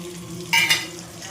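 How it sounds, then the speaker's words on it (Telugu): Tempering spices and garlic in oil for tomato chutney sizzle softly under a low steady hum, with two brief louder bursts of crackle and stirring in the middle. "వేగనివ్వాలండి తాలింపు దినుసుల్ని."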